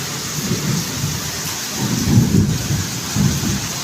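Steady rain falls in Chatkhil, Noakhali, with low rolling rumbles of thunder swelling and fading beneath the continuous hiss of rain.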